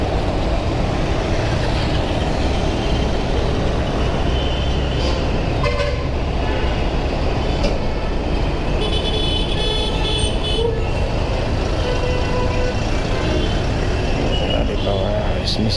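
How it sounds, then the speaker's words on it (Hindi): Busy road traffic with a constant roar of engines and repeated car and truck horns honking near and far, including a long blaring horn partway through, and voices talking over it. "इसमें से कितनी ट्रैफिक है यार"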